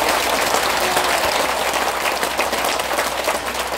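An audience at a Korean health lecture claps heartily, a dense, loud, steady wash of applause that keeps going without pause for several seconds.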